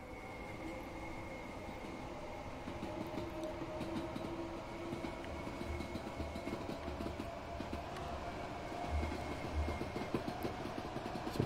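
A ScotRail train in a train simulator game runs steadily at speed, with a continuous rumbling drone and rhythmic clickety-clack of wheels over rail joints, loud and unbroken throughout.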